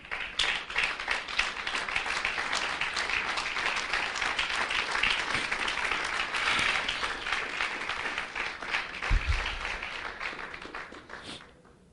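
Audience applause at a church-style gathering, a sustained crowd of hand claps at moderate level that holds steady for several seconds before tapering and fading out at the end.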